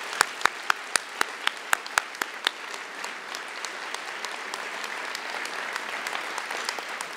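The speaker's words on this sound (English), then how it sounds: "So please, let's give them all a well-deserved round of applause." Applause fills a military academy commencement ceremony, opening with several sharp, loud individual claps before blending into a steady crowd ovation.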